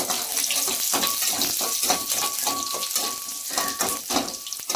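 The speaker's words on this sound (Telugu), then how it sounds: "కొంచెం ఒక 5-6 పాయలు తెల్లగడ్డ దంచి వేసుకుంటామండి. అయితే బాగా వేగనమండి." Crushed garlic cloves fry in hot oil with a dense, steady crackling sizzle and quick bursts of spattering, close and continuous with no talk.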